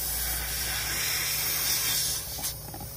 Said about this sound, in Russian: Здесь у нас как шипело. Так и шипит, если не хуже еще.